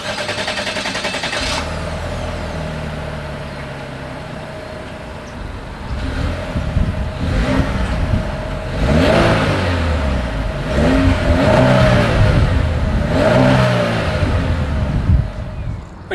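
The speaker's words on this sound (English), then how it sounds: "as always, here is that exhaust clip." A 2023 Chevrolet Malibu's exhaust as the engine idles and then revs in several rising bursts, loud and close, with no talking.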